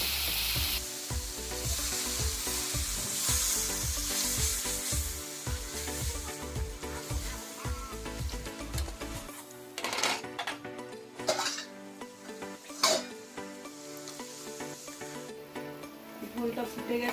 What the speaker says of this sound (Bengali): মশলাটা আমার হয়ে গেছে, এবার আমি জল দিয়ে দিই।